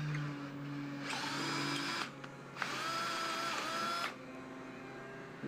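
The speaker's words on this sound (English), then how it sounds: "So throw a 1/2-inch tap in your drill." A power drill runs a 1/2-inch tap to clean threads on a tie rod, giving two sustained whining motor bursts of about a second each with a short pause between, close and fairly quiet.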